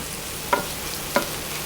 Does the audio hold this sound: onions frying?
yes